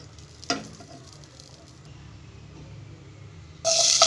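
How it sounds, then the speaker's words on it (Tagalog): Garlic hits hot cooking oil in a pan while cooking adobo, with a brief sizzle at first, a quiet stretch, then a loud burst of close frying hiss near the end. "Igisa na natin. Lagyan natin ng mantika."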